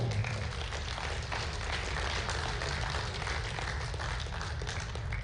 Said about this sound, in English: big round of applause for Mike Rosenwald